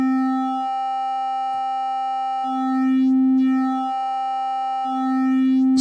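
Korg Prologue-16 synthesizer playing a folded-wave tone, a bright, harmonic-rich sustained note that swells and fades in slow repeating pulses, with no one speaking.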